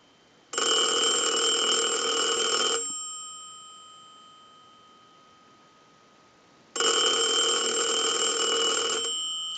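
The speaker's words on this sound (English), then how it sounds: "we want to use the analyzer, and we want to send a ring cycle" A French-style rotary telephone being repaired rings from a ring cycle sent by a test analyzer: two long bursts of bright, rapidly trilling bell, each about two seconds, separated by a quiet pause with a fading ring.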